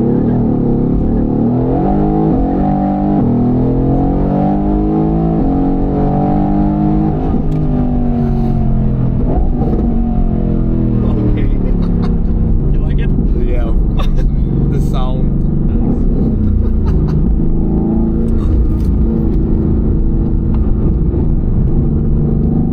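A Mercedes-AMG GT R Pro's powerful engine rumbles and revs up and down close by, with excited voices talking over it throughout.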